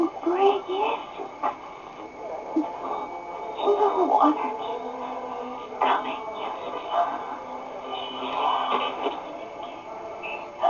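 Radio playing inside the Fatal Frame 2: Crimson Butterfly horror game, a steady murmur of muffled broadcast voice with crackly tone lasting throughout, moderately loud and alone.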